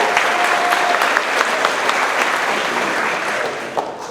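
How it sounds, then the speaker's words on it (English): Audience applause and cheering at a Melton Truck Lines monthly company celebration, steady dense clapping from a crowd indoors, fading slightly toward the end. "Let's make some noise for these guys."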